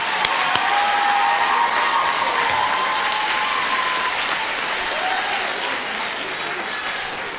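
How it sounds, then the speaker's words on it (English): Steady applause from a large audience at an 8th grade recognition ceremony, sustained and even throughout, with a faint cheer or whistle rising above the clapping. "One more round of applause for these great 8th graders."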